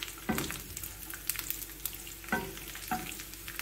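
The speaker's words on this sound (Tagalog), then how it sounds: "Unahin natin ang pine pagprito." Small pine nuts frying in hot oil until brown, a soft steady sizzle with occasional crackles and stirring scrapes, fairly quiet and close.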